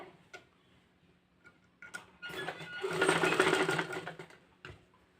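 A sewing machine stitches a sleeve onto a pleated top made from nightie material. A few soft ticks come first, then a loud, close, steady whirring run of stitching that lasts a couple of seconds and stops, with no talking.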